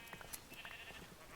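A Minecraft sheep gives a brief, faint bleat in the game, a single short call heard alone.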